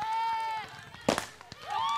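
A balloon bursts with a single sharp pop amid a lively outdoor village contest, with voices talking and shouting around it.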